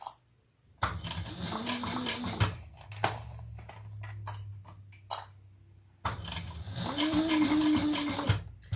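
A sewing machine stitches slowly through very thick fabric in two long runs of rapid mechanical clatter with a low hum, separated by a quieter pause, close and fairly loud.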